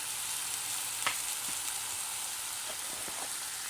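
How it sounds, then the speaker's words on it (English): Soft leftover vine tomatoes sizzling and simmering in a pan, a continuous fine crackle with a few small pops, close and steady with no voices. "those ones, just gonna simmer them down nicely"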